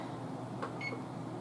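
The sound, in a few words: oven control panel beeps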